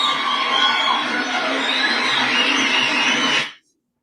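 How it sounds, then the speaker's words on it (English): A canned round-of-applause effect played from a soundboard: a loud burst of clapping and cheering crowd that holds steady for about three and a half seconds, then cuts off abruptly into silence. "Round of applause."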